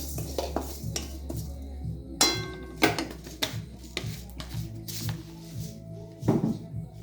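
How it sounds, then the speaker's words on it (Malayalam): Flax seeds dry-roasting in a hot pan give off scattered sharp pops and crackles at an irregular pace, mixed with light clinks and scrapes of a utensil against the pan. "ഇത് പൊട്ടുന്ന നല്ലൊരു രസമാണ് കാണാൻ."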